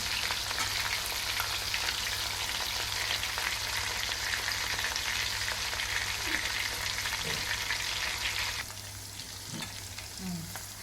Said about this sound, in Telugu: రెండో వైపు తిప్పుకొని మళ్ళీ 3 to 4 minutes బాగా వేయించుకోవాలి